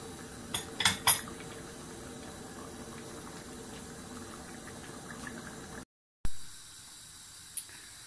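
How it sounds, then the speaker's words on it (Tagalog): Mince with carrots bubbling in a pot while a spoon stirs, a few metallic clinks against the rim early on over a low simmering hiss, then a brief silence and more faint bubbling. "kumukulo na ang ating mince at haluin lang natin."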